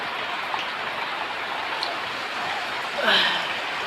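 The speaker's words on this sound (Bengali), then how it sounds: "প্রচণ্ড বৃষ্টি প্রচণ্ড বৃষ্টি" Heavy downpour keeps up a thick, constant hiss, fairly loud and close, with a brief brighter splash or clatter near the end.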